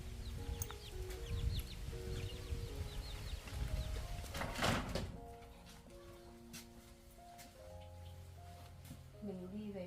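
Chickens cluck in short bursts near a house, mixed with a steady background hiss and people talking nearby.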